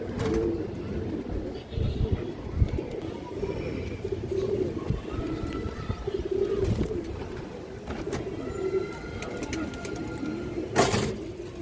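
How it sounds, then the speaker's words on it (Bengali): Pigeons, including a silver male, coo repeatedly in soft low murmurs nearby, with a few faint clicks and rustles around them. "আর একটা নর কবুতর আছে সিলভার কবুতর"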